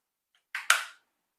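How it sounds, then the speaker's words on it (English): A perfume bottle, a budget summer clone fragrance, gives two quick close sprays, the second slightly longer and louder, in an otherwise quiet room. "Might have to spray another one just because."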